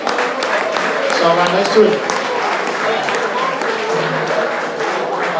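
A room of people at an auction gives a round of applause, with steady, loud clapping that continues for several seconds while someone speaks over it.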